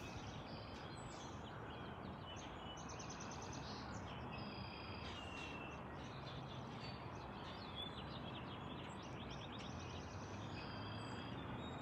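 Birds chirping faintly and steadily in a Minnesota backyard on a winter day before a snowstorm, scattered high calls over a constant broadband background hiss that runs the whole time.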